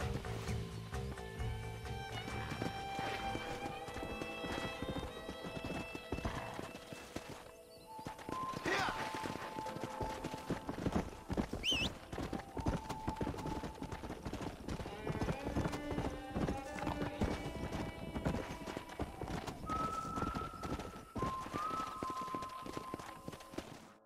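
Horse hooves clip-clopping steadily in the Western game Red Dead Redemption, with a brief neigh, game music and a voice talking over the sustained trotting.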